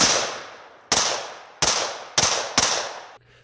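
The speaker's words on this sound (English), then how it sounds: "And I find video of him shooting a gun." Four sharp gunshots from a handgun-style firearm fired outdoors, spaced unevenly about half a second to a second apart, each with a quick decaying tail, fairly loud and alone with no talk.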